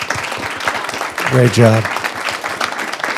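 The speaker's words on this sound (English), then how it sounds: "let's applaud Addison for her courage" Audience applause in a live discussion setting, a short burst of clapping rising around a spoken "great job" and continuing underneath steady talk.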